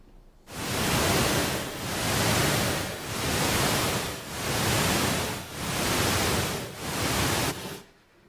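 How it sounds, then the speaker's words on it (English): Deep-sleep-stimulating pink noise plays loud and alone as a steady hiss that swells and fades in six regular bursts, each about a second long. "we played the deep sleep stimulating sound that was shown to make them have deeper sleep"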